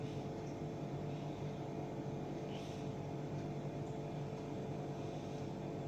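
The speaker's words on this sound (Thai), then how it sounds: "ใช้เครื่องปั่น" A steady motor whirs without a break as an electric blender mixes soybeans and water to make soy milk, humming at a moderate, unchanging level throughout.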